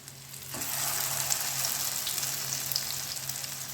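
Bread cutlets frying in oil on a low flame, a dense steady sizzle that swells in after a quiet first half second and then holds evenly, close, with no speech.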